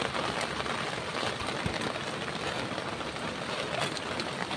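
Rain falling outdoors on plants and surfaces, a steady dense patter with scattered louder drops, continuous and close.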